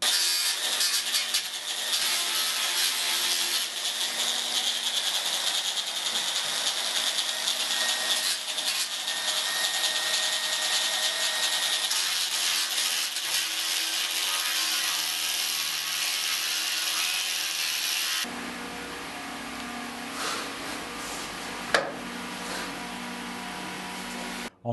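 Sanding on a wooden SUP paddle gives a long, steady abrasive rasping that stays loud and close, then shifts to a slightly different, softer texture near the end, with one sharp knock.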